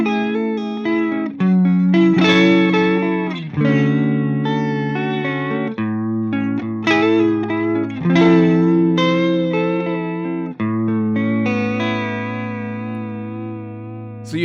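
An electric guitar plays sustained chords and single notes through a vibrato effect, each tone wavering in pitch with a warm, wobbling quality. The playing is loud and clear, with no talking.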